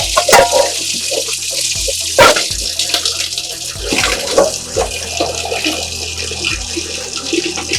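Water poured and splashing during washing of utensils at home, a steady running splash with a few sharper knocks and clatters, close and fairly loud with no talk over it.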